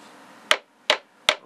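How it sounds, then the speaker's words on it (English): Nylon hammer tapping a pen nib into the end of a barrel, three sharp, evenly spaced taps, close and clear against near silence. "then I take this nylon hammer and I tap it gently"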